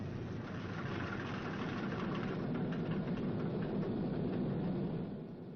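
A newly installed engine on a WW2 B-29 Superfortress bomber cranks and runs during start-up, giving a steady, moderately faint mechanical rumble that eases off at the end.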